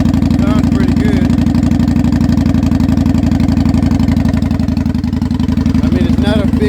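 A 900 cc motorcycle idles close by, a loud, steady, even engine throb that lasts throughout, with people talking over it.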